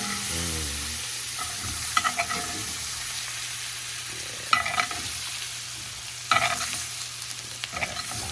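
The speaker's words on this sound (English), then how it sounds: "Now with the butter in the pan, we're just gonna baste the pork chop." A pork chop sizzles steadily in a hot pan as butter is spooned over it, with occasional louder spattering bursts and utensil scrapes over the continuous close frying hiss.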